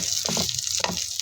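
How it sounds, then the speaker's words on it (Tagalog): Onions sautéing in butter in a pan, a steady close sizzle with faint clinks, continuous and fairly loud throughout. "At tapos syempre, gisa-gisahin natin. Lagyan natin ng sibuyas."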